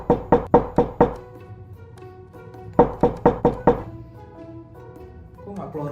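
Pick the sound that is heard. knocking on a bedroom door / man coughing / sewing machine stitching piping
knocking on a bedroom door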